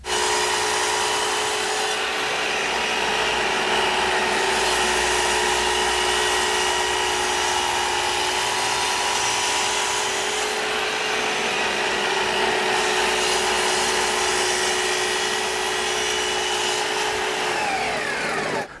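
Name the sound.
saw cutting long wooden door stiles to length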